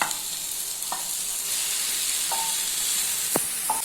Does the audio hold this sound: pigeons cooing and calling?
no